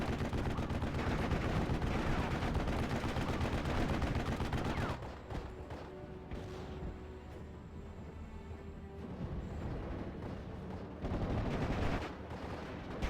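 Dense bursts of gunfire and mortar blasts from a WWII strategy game battle, loud and continuous at first, then thinning to scattered shots and rumbling explosions before intensifying again near the end.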